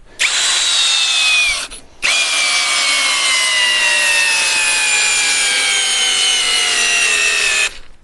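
A Procraft CD-20A cordless drill drives a large lag screw with a 19 mm head into the end grain of pine. A loud, straining motor whine slowly drops in pitch across two runs separated by a brief pause.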